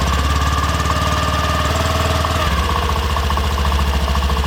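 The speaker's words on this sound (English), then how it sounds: "hit the engine start switch and the scooter turns on silently but smoothly and it sets into place" A 2020 Honda Dio BS-6 110cc scooter engine runs after a silent start, its steady rapid chugging putter close and even, with a slight shift in tone midway.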